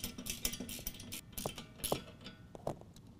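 A ratchet or wrench tightens a nylock nut on a bolt of a headache rack on a 2019 Chevy Silverado, making quick, soft clicking bursts with brief pauses, close by and quiet, with no talking.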